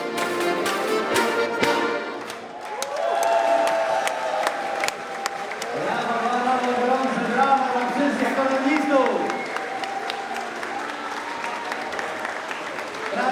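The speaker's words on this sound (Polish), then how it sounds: "wielkie brawa dla Was" Outdoor festival crowd at a Kashubian Unity Day gathering breaks into applause and cheering, dense clapping with voices shouting and calling out, loud and sustained over several seconds before thinning.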